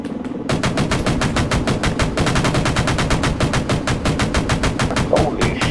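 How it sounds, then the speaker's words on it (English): Sustained rapid automatic gunfire in a military shooter video game, a loud continuous rattle of evenly spaced shots lasting several seconds after a short pause at the start. "we're taking fire"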